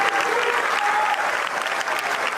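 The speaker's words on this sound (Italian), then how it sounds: "Un lungo e fragoroso applauso ha accompagnato l'ingresso della bara bianca." Long, loud applause from a large gathering of mourners at a funeral as a white coffin is carried in, dense and continuous throughout with a faint murmur of voices underneath.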